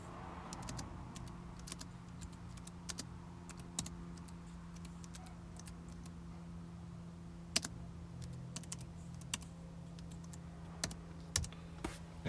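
Sparse, quiet clicks from a computer keyboard as someone types, irregular keystrokes with a few sharper taps over a low steady hum, faint and close.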